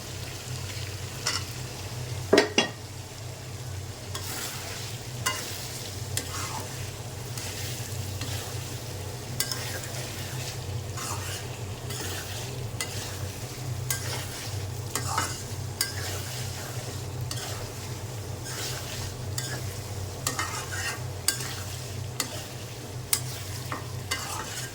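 Goat meat and potatoes fry in a pan with a steady, even sizzle lasting throughout, while a utensil stirs them in repeated scraping strokes close by; no one speaks.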